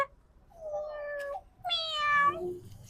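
A cat meows twice at close range in a quiet room: a drawn-out first call, then a higher, brighter second meow.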